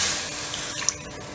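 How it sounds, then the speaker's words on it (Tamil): A quarter cup of water poured into a pan of coconut and jaggery for an aval snack, a short rushing splash that tapers off with a few faint clinks, no talk. "தண்ணி வந்து ஒரு 1/4 கப்பு மட்டும் சேர்ப்போம்."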